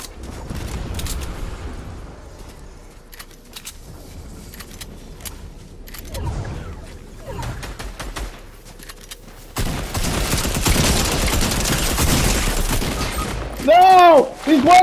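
Gunfire during a video game shootout, scattered sharp shot clusters early, then a denser stretch of continuous firing and clatter, with excited voices talking over the action.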